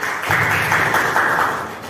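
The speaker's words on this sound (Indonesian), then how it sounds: "Mari kita tepuk tangan untuk semangat" Audience applause at a PKK women's community competition in Pringrejo, a steady broadband patter of many hands clapping together, fairly loud and sustained for the whole stretch.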